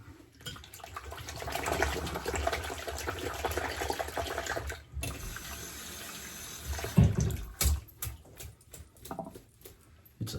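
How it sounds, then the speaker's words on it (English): Steady running water from a tap as a shaving brush is rinsed, with splashing and rinsing sounds, a brief pause midway, then louder splashes and clatter near the end. "Now let's rinse off this brush too."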